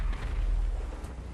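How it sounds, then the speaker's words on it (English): A GTA 5 explosion rolls out as a brief, muffled, low rumbling boom, heavy and dull with no sharp crack, lasting just over a second. "I heard explosions."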